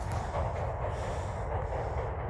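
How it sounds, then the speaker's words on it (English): Train passing on a frosty morning, a steady low rumble with rushing noise heard from nearby outdoors, continuous and fairly loud with no talking. "There's the train."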